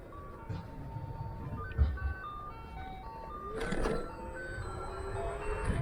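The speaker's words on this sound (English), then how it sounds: "Oh, there's ice cream truck." Ice cream truck jingle drifting in from a distance, thin melodic chime notes over a rumble of wind and road noise while riding a Xiaomi Pro2 scooter along the seawall.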